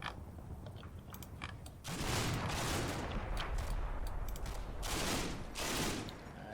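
Rifle fire in the World War II video game Combat Mission, heard as faint distant crackling bursts rolling across a quiet battlefield, rising in a couple of louder waves before fading.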